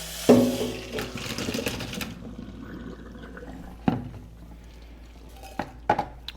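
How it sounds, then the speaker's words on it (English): Pasta water drained from a pot into a sink, a splash and clatter of the pot at the start, then a softer trickle with occasional metallic knocks and taps, fairly quiet and close. "And then I'll drain the pasta"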